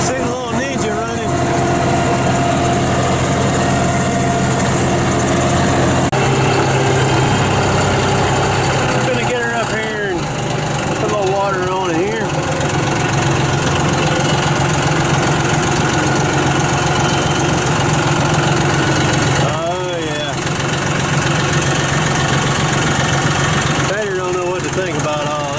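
Tractor engine idling steadily and loudly close by throughout, a constant low rumble with someone talking over it at intervals.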